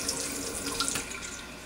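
Sink faucet running lukewarm water to rinse a thrift-store vinyl record, a steady close hiss of flowing water with faint splashing throughout, no talking.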